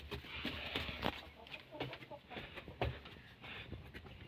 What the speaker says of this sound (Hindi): अभी कबूतरों के बच्चों को भी निकालते हैं और फिर इनको डालेंगे।